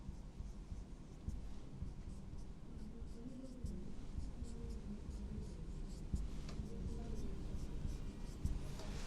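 Chalk or marker scratches and taps across a board during a chemistry lecture, forming quiet, irregular strokes beneath a faint room hum, with a teacher's voice present at times.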